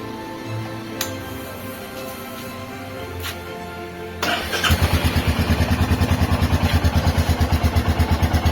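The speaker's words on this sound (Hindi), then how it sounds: "बाइक स्टार्ट कर लेते हैं।" After a quiet stretch with a few clicks, a Royal Enfield Meteor 350 motorcycle engine cranks and catches, then settles into a loud, rapid, even idle putter up close.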